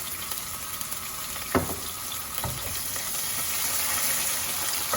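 Soaked mushrooms sizzle in a hot frying pan, a steady broadband hiss of frying with a couple of sharp clatters as they drop in, close and moderately loud.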